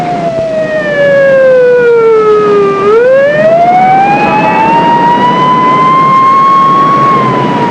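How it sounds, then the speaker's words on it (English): A loud emergency siren wails nearby, dropping in pitch then sweeping back up and holding high, over the rumble of a moving vehicle. "depends on motorists hearing their sirens, heeding their lights"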